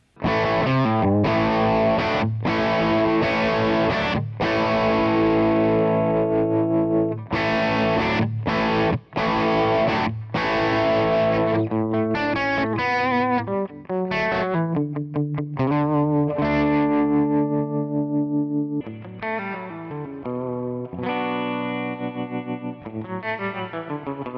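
Electric guitar playing through Kemper Player amp profiler rigs, shifting from crunchy distorted chords to chorus-soaked clean notes with echo, loud and close, no speech.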